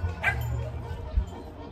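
Several dogs bark and yip in a small town street in Quitupan, Jalisco, a couple of short close barks with a whimpery edge rising over a low rumble, while people talk nearby.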